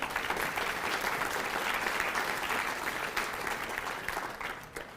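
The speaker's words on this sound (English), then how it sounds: "Let's give another round of applause for the 2022 to 2023 Logan and statewide officers" Sustained audience applause at a student officer inauguration, dense steady clapping from a large crowd filling the room, holding loud throughout before tapering slightly at the end.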